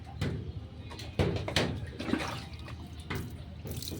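Water splashes and pours in uneven bursts over a puppy during a bath, close by, with dripping and sloshing between the louder gushes.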